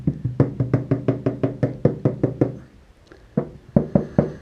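Quick, steady knocking on a thin sheet metal panel of a Ford Gran Torino, about a dozen loud taps with a tinny ring, a short pause, then several more knocks.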